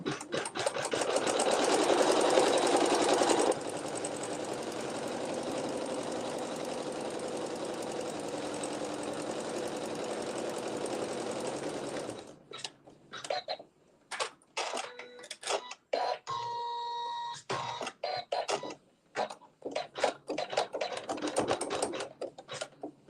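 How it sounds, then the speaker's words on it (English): A sewing machine stitches a decorative pattern on a quilt block, giving a loud, steady whirring run for about twelve seconds. Choppy stop-start bursts of stitching and mechanical clicks follow, with no one speaking. "So this will just sew some decorative stitching."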